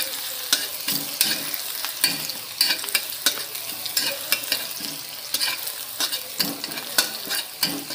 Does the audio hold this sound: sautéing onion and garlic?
yes